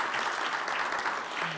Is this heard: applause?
yes